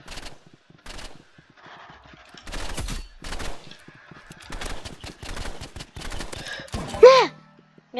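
Rapid bursts of gunfire from a video game shooter crackle in clustered volleys across the whole stretch, with a brief louder electronic sweep near the end.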